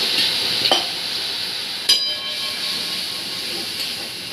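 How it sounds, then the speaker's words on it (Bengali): Spices such as red chili, Kashmiri chili and turmeric powder sautéed with a little water in a pan, giving a steady hiss of steam with a couple of sharp scrape clicks, near and continuous, no talking. "আর একটু জল দিয়ে এটাকে ভালো করে কষবো"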